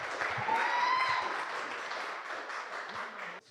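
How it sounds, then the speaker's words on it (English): A comedy night audience applauds a comedian coming onstage, a dense burst of clapping that stays steady for a few seconds before cutting off abruptly. "Warm round of applause for Jesse."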